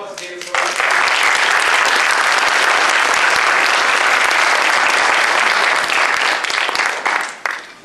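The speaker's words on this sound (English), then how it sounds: "Can we just give a round of applause to David?" Audience applause after a bail reform presentation, dense and loud, sustained for several seconds as a steady wash of many hands, then tapering off at the end.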